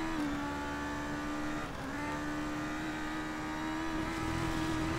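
Race car engine in the racing game Grid holding a steady, buzzing drone that dips briefly and then climbs again as it accelerates, with no talk over it.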